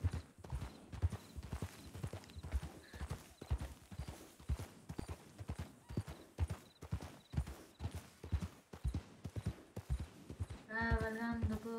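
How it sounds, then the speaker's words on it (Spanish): A horse galloping across countryside in a ranch roleplay video game, with loud, evenly paced hoofbeats clip-clopping throughout and a short whinny at the end. "Caballo, cabalgando."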